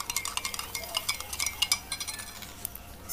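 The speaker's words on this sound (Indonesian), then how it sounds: "lalu kita aduk pakai sendok" A spoon stirs baking powder into about 50 ml of water, making quiet, rapid clinks and scrapes against the container in an uneven, repeating rhythm, close up and faint.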